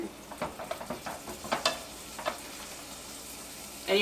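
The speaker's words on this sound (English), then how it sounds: "So our spices are sizzling." Soft, steady sizzling of spices and black beans in a hot pan with light scraping and stirring clicks, close and fairly quiet, and no talking.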